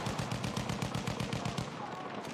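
Rapid bursts of automatic gunfire from the Battlefield 1 video game, a steady stream of close, loud shots about two seconds long that thins out toward the end.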